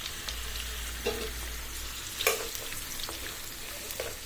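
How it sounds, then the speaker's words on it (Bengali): Onion, garlic and green chilies sizzle in hot oil in a wok, a soft steady frying hiss broken by a few sharp spatters and stirring taps. "এবার কেটে রাখা পেঁয়াজ, রসুন, কাঁচামরিচ দিয়ে দিচ্ছি।"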